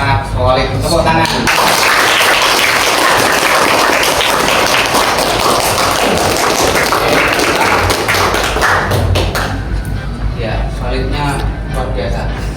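A school class applauds at length, a dense, loud patter of claps and taps with voices mixed in over it.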